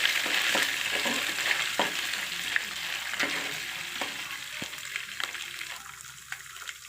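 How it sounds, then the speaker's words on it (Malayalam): Grated coconut fries and crackles in a hot pan already holding popped mustard seeds, with a steady sizzle and scattered sharp pops while it is stirred. "തേങ്ങ മൂത്തപ്പോൾ പൊട്ടിത്തെറിക്കുന്ന സൗണ്ട് കേട്ടോ"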